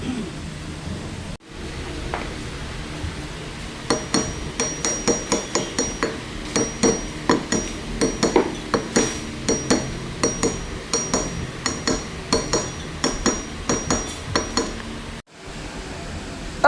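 Tools clatter and tap repeatedly while a Toyota Revo AC compressor is put back together after repair, a dense run of sharp metallic knocks and clinks in quick irregular rhythm, close and fairly loud, with no talk.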